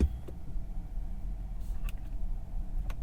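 Inside a Chevrolet Bolt EUV electric car as it pulls away, a low, quiet road rumble persists with a faint steady tone and a few small clicks, no engine sound and no talking.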